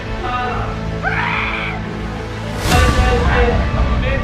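A boy screams and wails in shrill, sustained bursts while rolling on the ground during a staged exorcism-style ritual, with loud crowd noise and commotion throughout.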